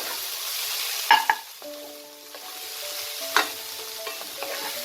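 Red amaranth leaves with peanuts and poppy seeds frying in a pan, with a soft steady sizzle, a few metallic clinks of a spoon against the pan, and light stirring scrapes.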